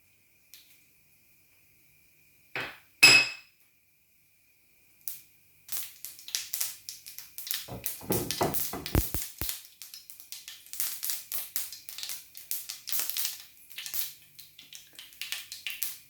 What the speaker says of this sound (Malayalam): കടുക് നല്ലോണം പൊട്ടിയിട്ടുണ്ട്